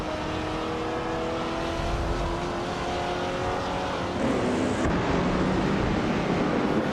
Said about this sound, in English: Amy is driving a 1972 Ford Falcon XB GT